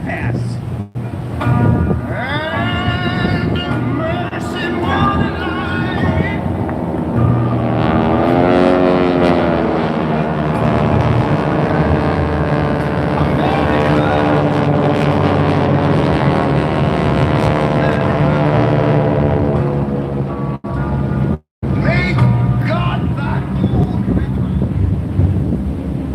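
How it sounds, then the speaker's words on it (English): Geico Sky Typers propeller aircraft fly in formation at an air show, a loud sustained engine drone that swells and shifts in pitch as the planes pass, buffeted by wind noise, with an announcer talking over it. "Notice that all the aircraft crossed into each other after the fan"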